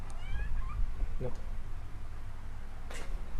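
A pet cat meows a few times in quick succession at the start, close and fairly clear, over a steady low background hum.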